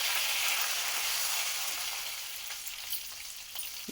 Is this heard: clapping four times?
no